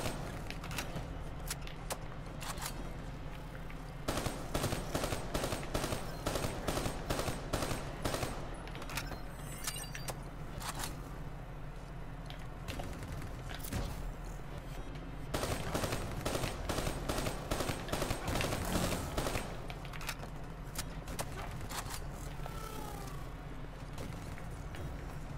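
Rapid automatic gunfire in the Black Ops 3 campaign as a player shoots down bats, long sustained bursts broken by short pauses, loud and continuous across the whole stretch.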